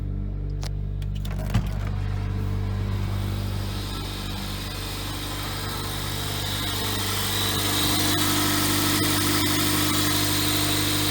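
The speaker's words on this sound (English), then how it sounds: "You can tell it's idling a little high." A Geo Prizm car engine idles a little high with a low, even rumble and a faint vibrating hum, continuous throughout with no talking.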